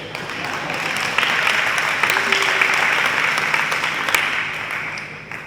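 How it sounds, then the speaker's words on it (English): Warm, sustained applause from an audience at a capital campaign announcement, a dense wash of many hands clapping with a few louder claps standing out, easing slightly near the end. "applause for Dave"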